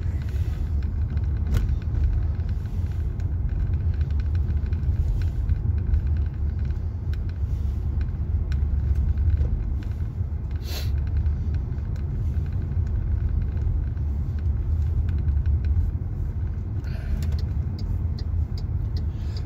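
A car drives through the streets of Pattaya, Thailand, its engine and tyre rumble a constant, loud low drone for the whole stretch, with a few faint clicks and knocks on top and no talk.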